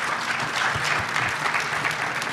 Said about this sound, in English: Well, that deserves a clap right there, real quick.